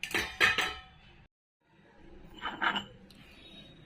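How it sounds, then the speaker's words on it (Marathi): A metal lid set back onto a cooking pot of sweet lapshi, giving two close clinks near the start and another soft clatter a couple of seconds later. "आता आपण परत झाकण ठेवणार आहे"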